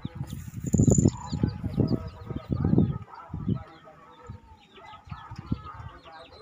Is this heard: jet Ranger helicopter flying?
no